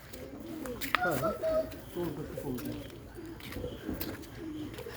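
Jalali pigeons at a zoo give soft, repeated cooing calls amid other bird chirps, moderately close, while people talk quietly in the background.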